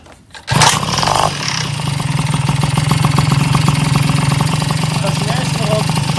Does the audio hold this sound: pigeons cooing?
no